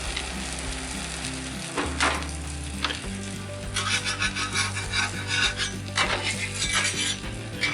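Buttered potatoes sizzle on a hot flat-top griddle during a low country boil, a steady close frying hiss with scraping and rasping strokes of a spatula layered over a low hum.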